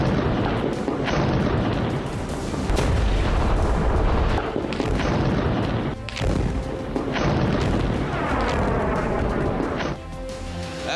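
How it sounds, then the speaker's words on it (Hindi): Bombs exploding on Gaza: loud, dense booming rumbles roll almost without pause, with heavy low thuds and a brief drop before a sustained tonal sound near the end. "गाजा पर बम बरस रहे हैं। गाजा की धरती थर्रा रही है।"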